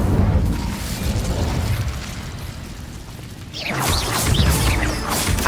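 Incendio fire spell cast in the Hogwarts Legacy video game: a sustained, loud roaring burst that dips briefly, then flares again with crackling, fiery bursts, with no talking.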